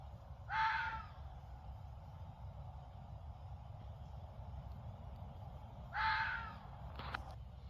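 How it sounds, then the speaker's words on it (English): A bird gives two loud, harsh calls about five seconds apart over a steady low background rumble, with a brief faint knock near the end. "I know it was a bird, I think, some sort of bird"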